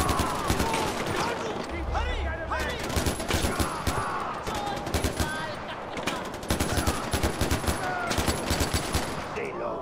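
Rapid gunfire bursts and rattling automatic fire from an AK-style rifle in the Far Cry 4 video game, loud and repeated across the scene, with someone talking over the shooting.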